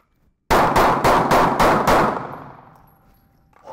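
Six rapid, loud gunshots at a shooting drill crack in quick, even succession, close and sharp, with the last one ringing out in a long fading echo.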